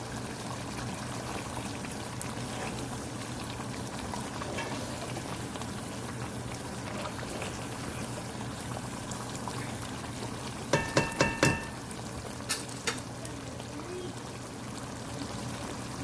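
Chicken karahi with ginger fries in a pan, giving a steady soft sizzle throughout, with a brief cluster of sharp metallic clicks and taps from stirring partway through.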